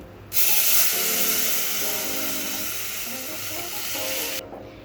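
Lentils hit hot oil in a pressure cooker and break into a loud, sudden sizzle that holds steady for about four seconds. The sizzle then cuts off sharply, with faint clatter underneath.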